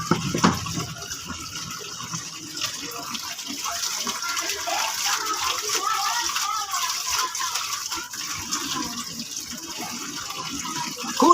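Laundry washed by hand in water, steady splashing, sloshing and trickling close by throughout, with a voice heard over it.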